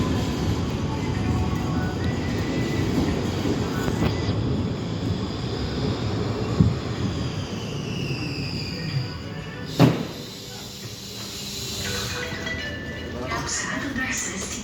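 A Brussels STIB tram on line 51 runs with a continuous rolling rumble from inside the car. A rising whine, a couple of sharp clunks and a brief high squeal break through, and voices are heard over it.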